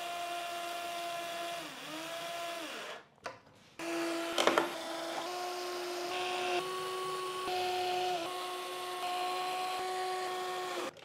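A powered driver with a long bit screws together parts of a drybox for a Prusa XL 3D printer, whining steadily in near, sustained runs with brief stops and changes in pitch between screws.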